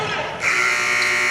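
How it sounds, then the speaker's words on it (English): At a school girls' basketball game, the game-clock buzzer sounds as a loud, sustained electronic blare that cuts in abruptly and holds to the end over crowd and commentary noise. "Up before the buzzer."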